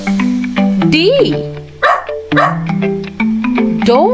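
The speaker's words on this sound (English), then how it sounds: "D is for dog." A dog barks and yips in short, bright bursts spread across a bouncy children's musical backing, loud and upfront with rhythmic bass notes underneath.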